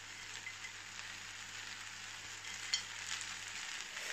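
Cashews and raisins frying in oil in a pan for pineapple shrimp fried rice, a steady, soft, close sizzle with one small clink partway through and no talking.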